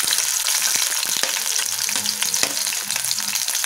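Capsicum, peas, carrots, beans and cabbage sizzle in about three spoons of hot oil for veg fried rice, a loud, steady hiss and crackle with occasional stirring clinks, close and without talking.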